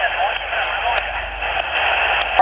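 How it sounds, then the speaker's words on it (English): Shortwave radio station on the 40 meter band received on an iRadio UV-98 Plus, a steady noisy broadcast signal with voice-like modulation, hiss and faint clicks, heard continuously at moderate level. "Using this antenna, we can hear this station."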